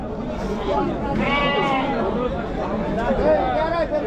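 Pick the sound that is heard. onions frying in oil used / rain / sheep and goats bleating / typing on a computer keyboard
sheep and goats bleating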